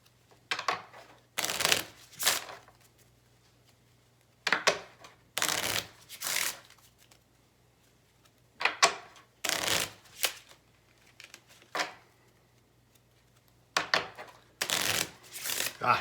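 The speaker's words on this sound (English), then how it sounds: "shuffling cards without sleeves just gives me the heebie-jeebies" An unsleeved deck of playing cards is shuffled during a card game: about seven short, crisp riffling bursts, close and clear, separated by brief quiet gaps.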